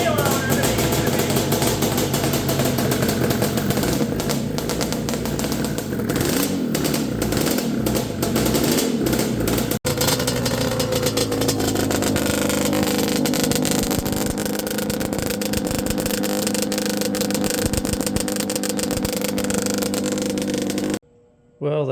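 A modified Banshee ATV engine revs loudly and harshly in repeated bursts, close and sustained, before cutting off at the end, with a voice speaking over part of it.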